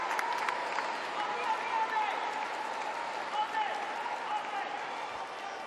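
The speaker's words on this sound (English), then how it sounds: "Lovely support from the crowd for Australia." A crowd at a rhythmic gymnastics group final applauds to support the Australian group, sustained, even clapping that fills the arena, heard from a distance beneath a commentator's voice.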